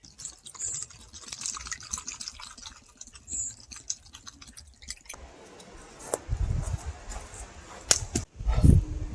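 Water drawn from a cold spring on a Big Sur wilderness trail in the Santa Lucia Mountains, with soft trickling and splashing under faint clicking, then louder close gurgles and sloshing near the end.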